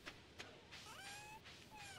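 A cat meows in the Stardew Valley video game, a few short soft game meows with chirpy rising tones over faint background music, quiet and without talk.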